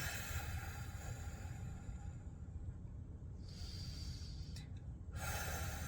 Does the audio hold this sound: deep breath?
yes